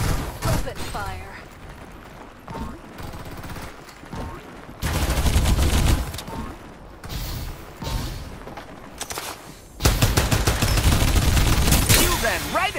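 Loud, dense gunfire in a Farlight 84 team deathmatch, continuous automatic bursts and volleys that swell in heavy waves across the whole stretch, with a voice briefly under the din.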